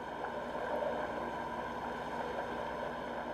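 A boat engine running steadily at 2,750 RPM during an anchor pull test with a Delta anchor, a constant hum and drone with faint water and wind wash, even in level throughout and heard from a distance.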